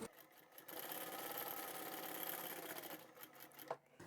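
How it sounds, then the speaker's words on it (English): A sewing machine back stitching cotton or upholstery fabric for a large boxy bag: a steady, close mechanical whir that runs for a few seconds, with brief pauses and a faint clack near the end. "This is where I'd like to start my opening, so I'll back stitch here"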